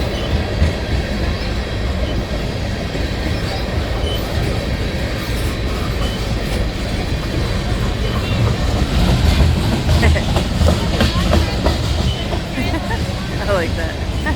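A Canadian Pacific freight train of tanker cars rolls past close by in Winona, Minnesota, its wheels clacking and squealing in a loud, steady rumble that never lets up, with voices talking over it.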